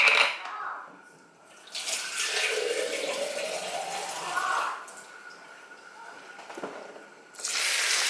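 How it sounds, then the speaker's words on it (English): Tap water pours into a bowl of buckwheat kernels, a close, steady gushing stream that rises and falls over several seconds, with a voice heard briefly. "And fill it up with water."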